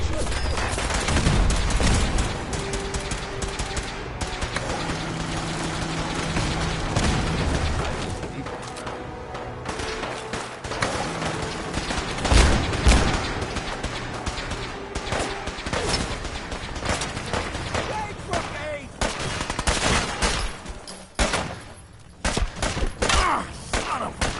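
Ship turrets in a naval video game fire warning shots, a loud, dense barrage of overlapping booms and cracks running continuously under music and game voices.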